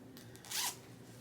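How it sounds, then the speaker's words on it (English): Zipper pulled shut on a newborn swaddle sack, a single short quick zip that is faint and close in a quiet room. "It's just like a sack that you put them in, and this one zips."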